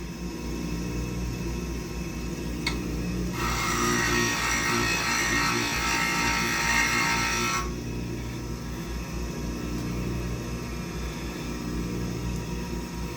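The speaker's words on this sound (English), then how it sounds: "So I'm just going to grind something that looks like about the angle of chamfer we would like to see." A high-speed steel form tool is ground to a chamfer angle on a grinder: a harsh, steady hiss of roughly four seconds rises over a constant motor hum, then drops away.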